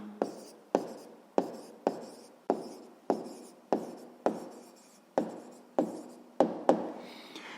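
Pen or pencil writing by hand on paper while solving sixth-grade maths inequalities, heard as a run of about a dozen crisp, regular strokes and taps, close and clear with no voice over them.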